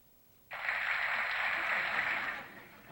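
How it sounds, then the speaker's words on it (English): A burst of applause from a group at an educational talk on student behavior starts abruptly and holds evenly for about two seconds before fading, sounding slightly thin and processed. "Let's give you all a little applause here."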